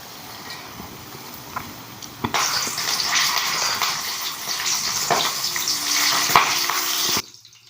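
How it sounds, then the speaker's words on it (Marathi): Green chillies frying in hot oil in a pan, giving a steady close hiss and sizzle for several seconds, then cutting off abruptly, with no talk. "ह्याच्यासोबत मिरच्या बी तळून घ्यायच्या त्या."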